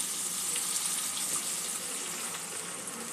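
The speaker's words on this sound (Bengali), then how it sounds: "পরিমাণ মতন জল দিয়ে দেবো" Water is poured into a hot pan of katla fish curry with vegetables, giving a continuous close sizzling hiss that stays even and unbroken throughout.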